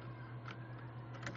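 Faint typing on a computer keyboard at a Linux terminal, a few soft key clicks over a steady low electrical hum, with no talk.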